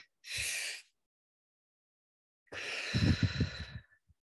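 One person takes a deep breath in, pauses in silence, then draws an extra sip of breath on top, two close breathy inhalations with a fluttering, sighing edge, quiet and alone.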